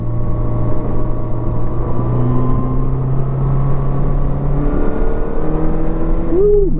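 A 1987 Honda GL1200 Goldwing motorcycle, freshly repaired, hums along on a ride with a steady engine drone and rising and falling revs as it shifts. Wind rushes throughout, and a brief swoop near the end marks a change in revs.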